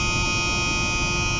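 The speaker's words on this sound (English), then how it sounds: "obviously we've got the buzzer as always." A short skoolie bus's ignition warning buzzer drones as the ignition is switched on, a steady, continuous electronic tone held at even loudness from start to finish with no talking over it.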